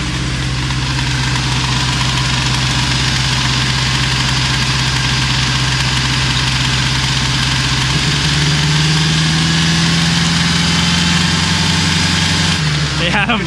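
A vehicle engine, being driven underwater, runs loud and steady at idle with a constant low rumble and vibration that shifts pitch slightly near the end.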